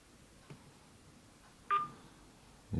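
An Ulefone uWear Bluetooth smartwatch plays DTMF dialing tones: a faint tap, then a single clear keypad tone, with quiet handling noise around it.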